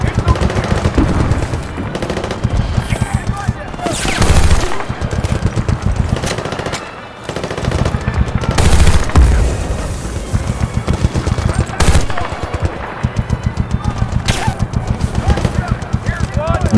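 Battlefield: Bad Company 2 firefight on PC, with rapid loud bursts of automatic weapon fire repeating in tight rhythmic strings, broken by a few heavier blasts, while a voice talks over it.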